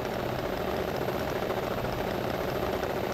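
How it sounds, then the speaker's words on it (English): A rally car engine in the EA Sports WRC video game holds steady, dense revs at the start line, a continuous loud buzzing roar with no voices. "hold the handbrake and find your revs."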